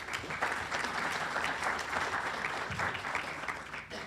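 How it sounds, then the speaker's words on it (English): A seated audience at a civic luncheon on animal welfare in Manatee County claps steadily, a moderate, even patter of applause lasting the whole moment without a pause. "Please give them a round of applause."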